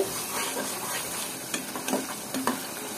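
Spice mixture sautéing in hot oil for a mung dal and chicken dish, a steady close sizzle with scraping stirring strokes that grow sharper near the end.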